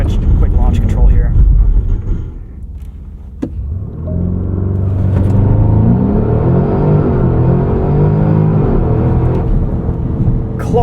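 A 2024 Porsche Cayenne Turbo E-Hybrid Coupe launching under launch control, its engine note rising from a low rumble into a loud, steadily climbing roar that holds through the run, heard from inside the cabin.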